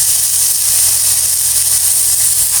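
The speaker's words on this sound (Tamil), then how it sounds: "இப்போ எண்ணெய் காஞ்சிச்சு இந்த பிரண்டையை போட்டு வதக்கிக்கலாம்" Pirandai (adamant creeper) dropped into hot oil in a pan gives a loud, steady hiss of sizzling, close and unbroken, with no talking.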